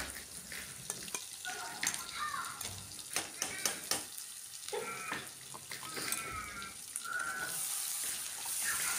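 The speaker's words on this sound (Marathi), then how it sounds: "त्यात आता आपण वाटण टाकून घेऊया आणि वाटणही छान आपल्याला परतून घ्यायचं आहे, तेलात मिक्स करून घ्यायचं आहे" Masala paste for misal pav is sautéed and stirred in hot oil, giving a continuous soft sizzle and frying hiss broken by scraping and clinking stir strokes, with no talking.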